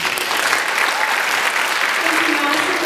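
Audience at a Miss Northern Utah County pageant applauding, dense steady clapping filling the room for the whole stretch, with a faint voice near the end.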